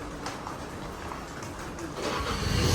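A car is being parked nearby, a low engine rumble with faint background noise that swells toward the end of a short stretch.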